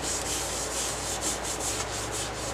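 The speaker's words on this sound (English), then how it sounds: "I'm just wiping off, trying to get all the grease I can off of it" A rag wipes grease off an old bench vise in a workshop, a continuous close rubbing with rhythmic back-and-forth strokes that stays loud and even throughout, with no speech.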